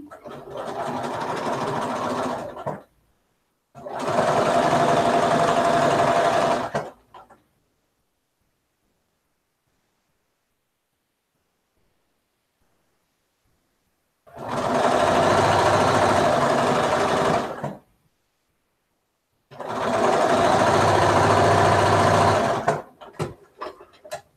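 A sewing machine runs in four steady bursts of a few seconds each while stitching a quilt seam for a spring mystery quilt, loud and close, with long silent pauses between runs.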